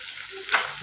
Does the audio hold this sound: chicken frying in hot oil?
yes